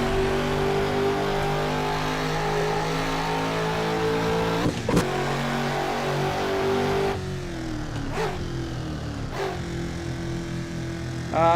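A BMW M5 E39 drives and accelerates with a steady, loud engine drone that climbs in pitch. Several sharp shifts break the rising tone before the revs settle again.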